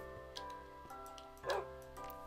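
A tamed dog in Minecraft gives short yips and a bark over a steady tonal background of game music, faint and brief.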